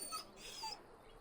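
A dog whimpers in the fantasy role-playing game Dragon Age, a few soft, high whines in quick succession, faint and close with no talk.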